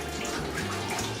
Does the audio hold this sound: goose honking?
no